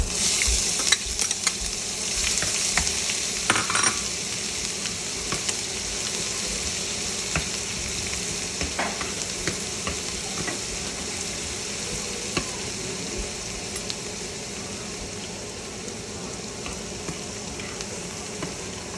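Garlic and ginger fry in a pan for pav bhaji, making a strong, continuous close sizzle with occasional stirring clicks and scrapes over about nineteen seconds, without talk.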